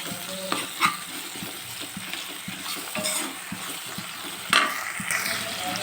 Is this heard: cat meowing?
no